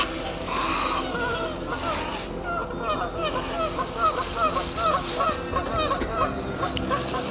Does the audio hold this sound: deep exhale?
no